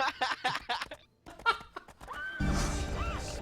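Horse neighing in a video game, a short whinny rising among bursts of laughter and lively talk, followed by louder steady game noise underneath.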